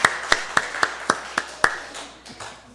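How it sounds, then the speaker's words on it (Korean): A church congregation clapping to encourage the students during a Sunday service: about seven sharp, evenly spaced claps, close and distinct, that trail off into a quiet room tone with a few faint taps. "우리 다시 한번 우리 학생들 위해서 박수로 격려하십시다"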